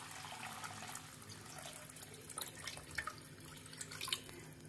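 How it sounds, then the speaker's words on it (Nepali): Water being poured into a pot of buffalo kaudi during home cooking in Nepali style, a soft trickling and dripping splash heard alone at low level with faint scattered drips. "अब चाहिँ यो माथि मैले एड गर्दैछु पानी"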